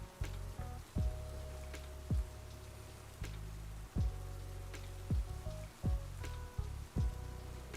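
Rain weather hisses softly in a Pokémon VGC video game battle, sitting beneath repeated synthesized battle music hits and tones, with no voices.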